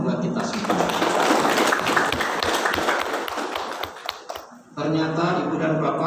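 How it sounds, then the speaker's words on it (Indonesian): Audience at a high school graduation and farewell ceremony clapping together in a dense burst of applause that fades after about four seconds, followed by a speaker talking. "Tepuk tangan buat kita semua."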